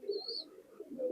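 A pigeon gives a soft, brief cooing call, faint and close in a quiet setting.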